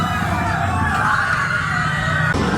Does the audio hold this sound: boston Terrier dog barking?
no